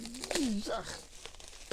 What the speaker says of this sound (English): this bubble wrap is really tight